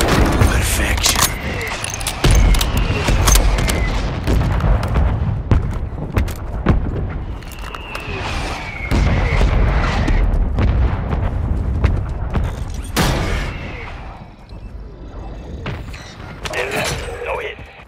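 Artillery strike explosions in a Call of Duty game, with repeated heavy booms and crackling blasts spread across the whole stretch, mixed with gunfire and voices talking over the battle.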